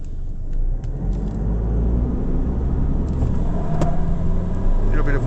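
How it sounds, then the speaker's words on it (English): A 2025 Mitsubishi Triton GLX pickup revs its engine and accelerates, a loud steady low rumble from inside the cab that builds slightly toward the end. "I'll build the engine revs up on the brake pedal as well"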